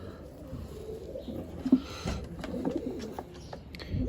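Soft cooing and rustling from homing pigeons being handled in the hand, low muffled coos with a few flaps and shuffles up close, fairly quiet.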